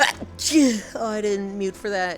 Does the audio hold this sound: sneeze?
yes